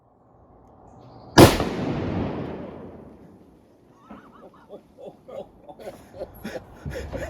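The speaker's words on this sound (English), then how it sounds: "Then, an opportunity to fire a .50 caliber." A single loud, booming shot from a .50 caliber gun, fired outdoors in the Arkansas Ozarks, followed by a long rumbling echo that fades over a couple of seconds, then faint voices.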